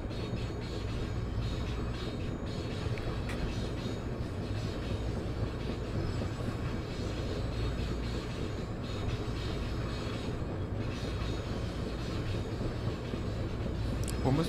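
An Amtrak train in Train Sim World 4 rolls through a long curve, a dense, continuous rumble of wheels and carriages with occasional faint squeals, steady and close throughout.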